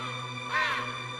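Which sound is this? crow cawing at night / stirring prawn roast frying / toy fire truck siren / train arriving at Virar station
crow cawing at night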